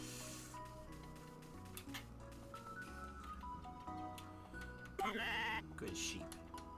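Farm sheep in the video game Story of Seasons bleat in a few short cartoonish calls over soft, steady game music, with no voices.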